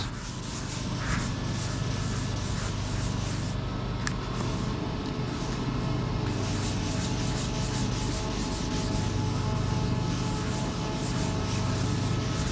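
Charcoal guide coat is rubbed in circular strokes over primed car bodywork, a steady close-up scuffing and rubbing texture that runs continuously with little variation and no talking.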